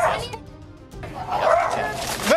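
A dog yips and whimpers in short, excited bursts during a tense confrontation with police, close by and mixed in with raised voices.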